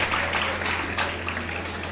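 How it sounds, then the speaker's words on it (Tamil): An audience at a Tamil speech event applauds, a dense, steady wash of many hands clapping at moderate volume that fades slightly over two seconds. "உங்க மேலே நல்லா கைதட்டுங்க"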